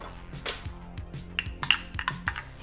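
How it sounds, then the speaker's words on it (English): A spoon stirs freshly pulled espresso in a cup, clinking against the sides in a quick, irregular run of bright, close taps. "Stir it up."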